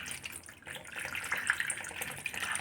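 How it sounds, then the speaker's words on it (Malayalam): Water from a drilled Malayan dwarf coconut pours in a steady, soft trickling stream, close and fairly quiet, with no talking. "ധാരയായിട്ട് വെള്ളം വരുന്നുണ്ട് കേട്ടോ"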